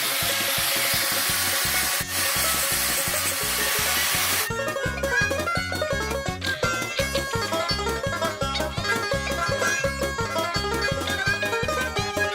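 Angle grinder cutting into an old microwave oven, a loud close rasping whine with rapid rhythmic pulsing, harsh broadband hiss at first, then a steadier chattering grind through to the end.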